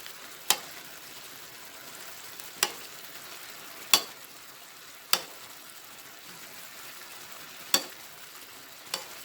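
Paprika chicken quarters are basted in a pot: six or seven sharp, separate clinks of a spoon against the pot ring out at uneven intervals over a soft, quiet simmer.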